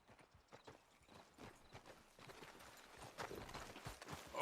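Horse hooves clip-clop steadily in Red Dead Redemption 2, a brisk repeating beat that grows louder and nearer toward the end.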